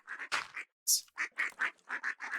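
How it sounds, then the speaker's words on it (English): Runner ducks in a video game quack repeatedly in quick, bright bursts, a busy cluster of overlapping calls from a group, fairly close and steady with one short gap. "So if I do that many, I should have a bunch of runner ducks."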